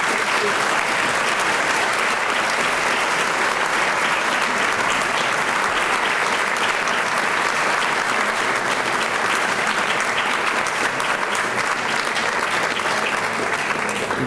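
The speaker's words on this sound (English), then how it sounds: "please join me in a round of applause for our past TLG presidents" Steady, dense applause from a seated luncheon audience honoring past presidents at an anniversary event, loud and sustained throughout with no break.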